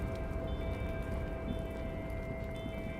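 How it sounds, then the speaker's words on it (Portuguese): Steady rain ambience in the game Disco Elysium, a dense continuous patter with a faint sustained tonal hum beneath, even and unbroken throughout, with no voices. "Água da chuva."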